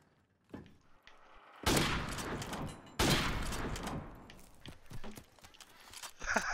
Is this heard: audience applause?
no